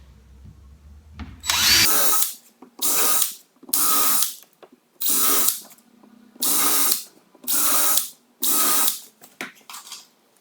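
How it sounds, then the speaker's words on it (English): Power drill driving screws into a wooden fireplace mantel surround: seven loud, evenly spaced whirring bursts, each about a second long, with brief quiet gaps between them. "Now I'll finish it off with some screws."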